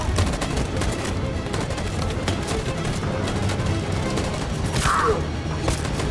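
Volley of gunfire from the video game Detroit Become Human, rapid overlapping shots in a dense continuous burst lasting the whole stretch, loud and close with a brief whoosh near the end and a faint voice underneath.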